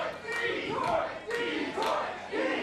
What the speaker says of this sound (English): This crowd strong behind Daniel Torch. You can hear the D-Torch chants.